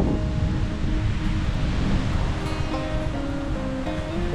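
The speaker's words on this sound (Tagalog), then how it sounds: "Ngayon ang lakas na ng alon" Steady roar of strong ocean surf with broadband wash and wind noise, continuous and fairly loud throughout, no voices.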